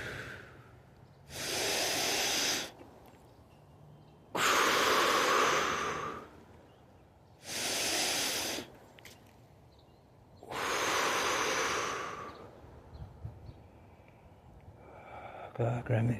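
Slow meditative breathing in and out while standing in a moon labyrinth circle: four long, close hissing breaths separated by quiet pauses, with some faint rustling near the end.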